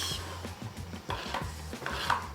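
A spoon stirs quinoa and chorizo stuffing in a bowl, giving a few soft scraping and clinking strokes close up, quiet and without talk.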